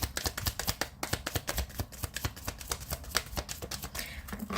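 Oracle cards being shuffled by hand in a steady run of quick, crisp riffling flutters and soft slaps, close and fairly quiet, with no voices.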